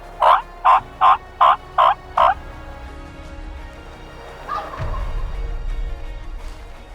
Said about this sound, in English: He was gobbling up on the ridge and then a little lower.